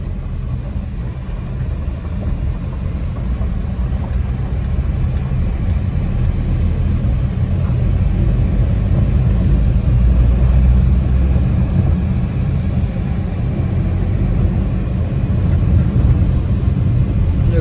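Steady low engine rumble and road noise from a car driving along a potholed highway, with an uneven, bumpy drone throughout and no voices.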